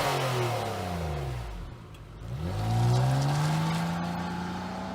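A 2019 Nissan Maxima SR with a 3.5-liter V6 revs hard nearby, its engine note climbing, dipping briefly, then swelling again into a loud, rising growl.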